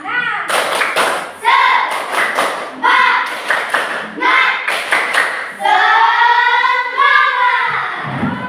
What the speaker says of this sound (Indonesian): Tepuk semangat dulu ya. Ayo, tepuk semangat.